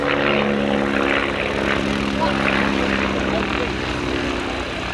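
A propeller aircraft flies at a small air show, its engine a loud, steady, even drone that holds without a break from start to finish.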